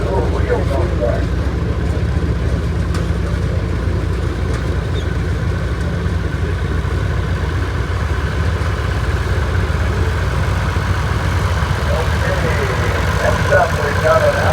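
A 1953 Toro tractor engine runs at a steady low idle-like drone during an outdoor tractor parade, continuous and moderately near, with a voice talking over it throughout.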